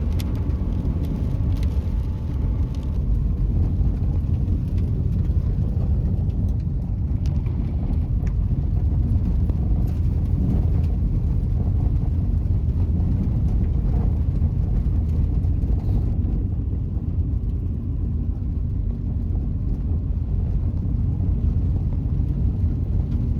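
A Toyota 86 cruises along a scenic country road near Melbourne. Steady engine and road rumble fill the cabin from start to finish, with a slight drop in brightness partway through.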